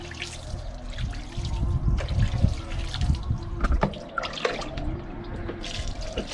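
Tap water running and splashing steadily while a dog is washed, with a continuous broadband trickle and a few louder splashes.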